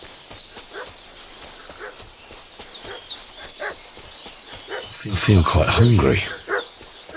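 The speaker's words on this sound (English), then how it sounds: "What's that dog making such a fuss about?" A dog in Kingdom Come Deliverance 2 barks in a short, loud burst near the end, following quieter footsteps and a man's spoken line over faint outdoor ambience.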